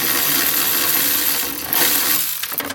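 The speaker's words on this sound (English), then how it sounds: "I am going to just cut the bar and move it up an inch." A metal bar being cut with a power tool during a vehicle modification, giving a loud, continuous grinding whine with slight shifts in pitch that fades near the end.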